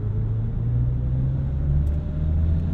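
A 2022 BMW i4 M50 electric car accelerating hard in sport boost, a loud continuous low rumble with a rising hum and no speech.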